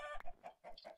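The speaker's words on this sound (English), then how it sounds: "There's more chickens up here." Minecraft chickens cluck in a quick series of short, close clucks heard alone in the game.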